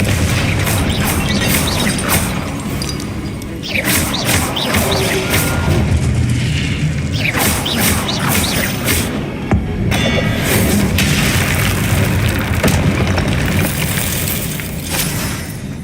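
Confringo spell explosions in the game Hogwarts Legacy: a dense, loud, continuous din of blasts and crashing impacts with repeated bursts across the whole stretch.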